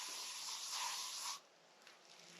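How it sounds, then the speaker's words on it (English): A close, steady hiss of insect repellent spray aimed at a hat outdoors while camping, lasting just over a second before cutting off and leaving quiet rustling. "first thing I want to do is spray myself down"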